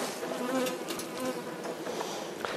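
Honey bees swarming around an opened hive during maintenance, a dense close buzzing drone with individual wingbeats weaving in and out, continuous and fairly loud, no talk.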